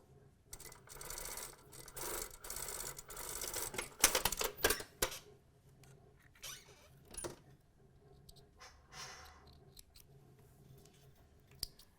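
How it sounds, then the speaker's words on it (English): A sewing machine stitches tape onto the fly bearer of a pair of trousers, giving a run of close mechanical whirring and clicking early on, then quieter, scattered rattles and taps. "we're going to stitch anywhere on the tape here"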